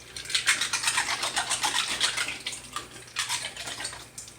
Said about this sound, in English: I'm going to give them a little wash right here in my hands.